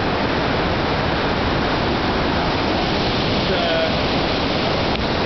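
Trestle Creek rushes and pours steadily below, a broad unbroken hiss like a fast creek or small falls close by.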